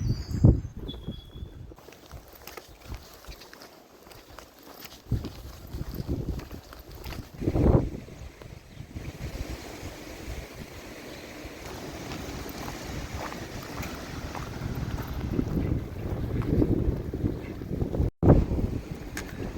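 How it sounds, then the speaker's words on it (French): Strong, violent wind gusts rushing and buffeting the microphone in uneven surges beside a road, rising and falling in loudness throughout with no talking. "Il y a des rafales vraiment violentes aujourd'hui"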